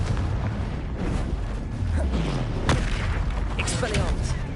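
A Confringo fire spell detonating in the game Hogwarts Legacy, a dull booming blast amid rumbling combat noise, with a voice speaking over it.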